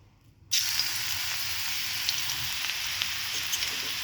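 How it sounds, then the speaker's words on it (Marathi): Crushed garlic drops into hot oil with a sudden loud sizzle that settles into a steady, close frying hiss, with only light stirring sounds and no talking. "लसूण असं छान असं आपल्याला परतून घ्यायचं आहे ब्राऊन कलर येईपर्यंत"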